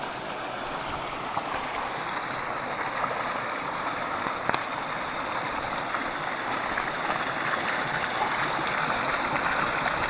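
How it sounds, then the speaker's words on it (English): A small stream pours steadily down a little waterfall in the woods, a continuous close rushing wash with no gaps or voices. "And then the water comes down to another fall."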